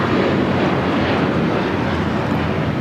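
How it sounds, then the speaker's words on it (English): Spirit Airlines Airbus A321 jet taking off at LAX, bound for Chicago: a steady, loud broadband engine roar that holds without a break, with no voices over it. "1068 taking off to Chicago on the A321"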